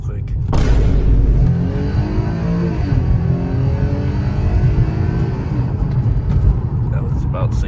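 A police car accelerates hard on a road, its engine note climbing steadily and loud close by, with people talking over the rising drone.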